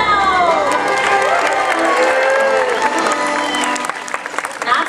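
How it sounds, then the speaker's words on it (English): A large arena crowd cheers and applauds for Roscoe, a black and white dog, at a Disneyland animal show, a dense roar of voices and clapping with high children's shrieks, fading slightly near the end. "So let's hear practice cheer for Roscoe."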